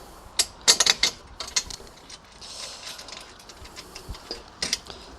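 A final screw goes into a wall-mounted bracket during assembly, heard as a quick series of sharp ratcheting clicks and mechanical ticks in irregular bursts, close and fairly quiet, with no talking.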